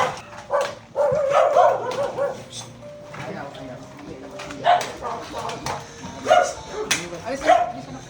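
Dogs rescued from a dog pound bark and yip in short bursts nearby at a feeding area, with some whimpering, while people talk over them.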